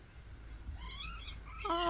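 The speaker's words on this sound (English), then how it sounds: "This is our new batch of kittens in the barn." Several small kittens in a barn meow in high, wavering cries, the calls growing louder and overlapping toward the end over a low background rumble.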